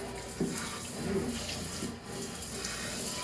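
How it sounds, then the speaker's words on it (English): Tap water runs steadily into a bathroom or kitchen sink during a quick rinse after cleaning a betta fish tank, a continuous close hiss with a few soft splashy swells and no talking. "Let me just rinse my sink real quick."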